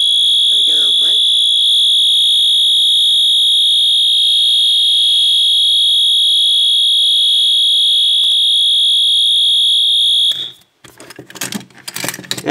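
A fire alarm in a test setup, triggered from a pull station, sounds a loud, steady, high-pitched electronic tone for about ten seconds. It then cuts off abruptly, followed by clattering and a voice talking.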